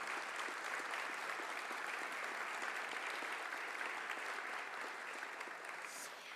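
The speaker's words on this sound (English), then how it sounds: "we should have a little applause for" An audience at a university opening ceremony in Venice applauds steadily for several seconds. The clapping is moderately distant and fairly quiet, with an even, sustained texture throughout.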